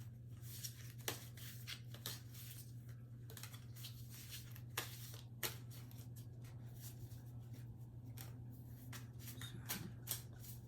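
A witchy tarot deck being shuffled, soft papery riffles and slides of cards recurring in irregular bursts, faint and close over a low steady hum, no talking.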